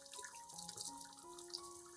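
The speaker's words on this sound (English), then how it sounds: "I will rinse the entire orchid with clean water." Clean running water rinsing an orchid's roots and stem, a steady faint stream from a tap with light splashing and trickling, close and continuous with no voices.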